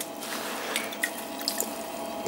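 Water dripping onto agateware clay while mugs are thrown on a pottery wheel, with light irregular drips and splashes over the steady hiss and whir of the spinning wheel, close by.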